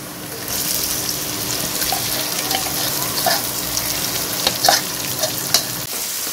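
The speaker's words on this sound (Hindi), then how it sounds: "अब मैं इसमें ये चने जो हमने मैरिनेट किए थे ये ऐड कर दूंगी।" Marinated chickpeas fry with onions in a pot, a loud, close, continuous sizzle with occasional stirring scrapes and clicks toward the end.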